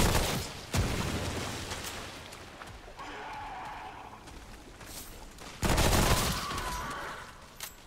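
Shotgun blasts in Remnant: From the Ashes, two loud broadband bursts several seconds apart, each trailing off into a rumbling decay, with game ambience between them.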